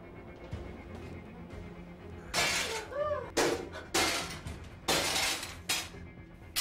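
Calligraphy smashed apart during a ruqyah session: a run of loud, sharp breaking and crunching bursts that repeat about every second, with a low room murmur between them.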